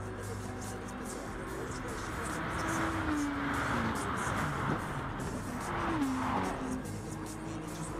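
Race cars in the Gran Turismo Sport video game at Bathurst, engines droning steadily with a couple of rising pitch sweeps as one car overtakes another, fairly quiet and continuous.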